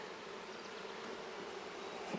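Honeybees buzz around an open nuc or package hive while its frames are inspected. The drone is steady, close and continuous, with no talk.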